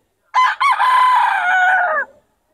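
A stag rooster crows once at a market, loud and close, with a short clipped opening note followed by a long drawn-out call that fades at the end, heard alone.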